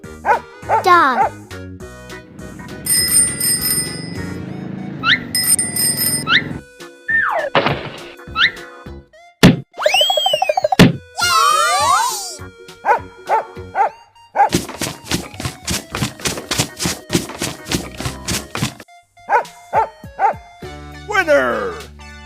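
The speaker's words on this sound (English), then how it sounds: "Dog." Cartoonish dog barks and yips in a children's animal transformation game, short punchy bursts scattered among boings, whooshes, chimes and rapid synthetic effects, loud and close with a voice and music in the mix.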